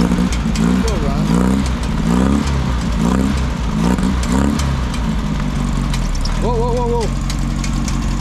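A Volkswagen Beetle engine idles loudly and close during a Bug build, with a throbbing low rumble, a few short revs and a whine near the end, while people talk over it.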